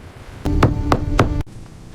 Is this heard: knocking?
yes